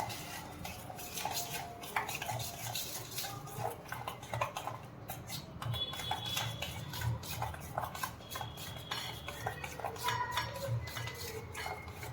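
A spoon scraping and clinking against a metal bowl while mixing rava idli batter, steady irregular stirring and tapping up close, with no voices.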